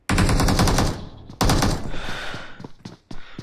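Shotgun blasts in the mobile battle royale game BGMI, a loud burst of rapid booming shots at the start, a second heavy volley, then scattered sharp reports trailing off close by.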